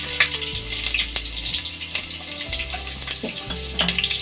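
Finely chopped onions dropped into hot oil in a pot for a village-style egg sambar fry with a steady, close sizzle, broken by scraping and stirring sounds.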